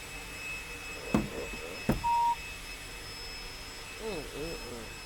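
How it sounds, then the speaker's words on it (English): A single short electronic beep from a phone line sounds over a steady background hum, with a couple of sharp knocks and faint voices nearby. "No, it's still beeping, so that means he ain't called in yet."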